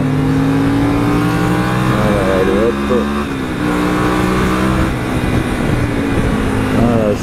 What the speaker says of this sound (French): Voilà, ça accélère, ça freine, t'es en interfile.